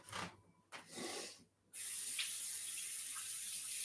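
Tap water runs steadily into a kitchen sink during washing up while cooking, a continuous hiss starting abruptly after a few brief rustles and gaps, fairly close and even in level.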